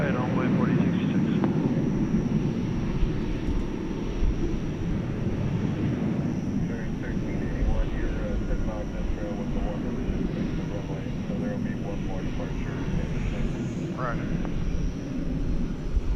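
An airliner departs DFW Airport at night bound for Doha, its engines a steady, loud roar that holds for the whole stretch, with faint voices underneath.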